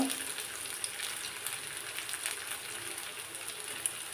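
Onion fritters with gandha bhadali leaves cook in hot oil, giving a faint, even, continuous crackling sizzle with no talking.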